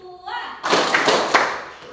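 A few sharp hand claps in a counted clapping game in a junior high classroom at SMP N 14 Bolaang Mongondow Utara, coming right after a voice calls out and landing in a quick, uneven cluster, close and moderately loud.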